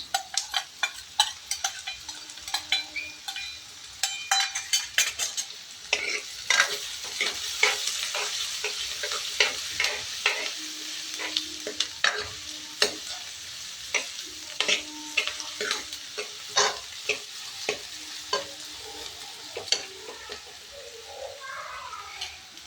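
Sliced onion and green chili sizzle steadily in a pan for Punjabi saag, with frequent scraping and clinking stir strokes against the metal, close and continuous, no talk.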